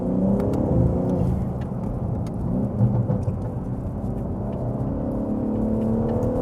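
A tuned 700-horsepower BMW G81 M3 Touring with an Akrapovič exhaust accelerates hard, giving a deep, continuous engine roar with rumbling exhaust, heard from inside or near the car without talk.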